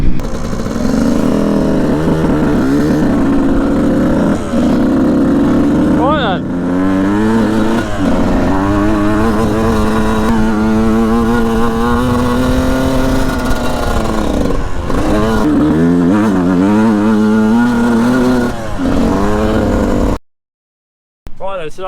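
A motocross bike ridden on a training session with a British champion, its engine droning loud and steady for about twenty seconds, the pitch rising and falling as the throttle is worked, before cutting out abruptly.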